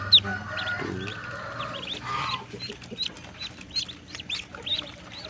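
A mother duck with her ten newly hatched ducklings, soft repeated quacks and clucks with a stream of high, thin peeping calls throughout, close by.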